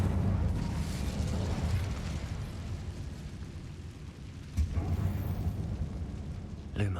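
A fire spell bursts in a Harry Potter game inside a dark old mine, a low rumbling eruption with a sudden pop midway and another at the very end, moderately loud.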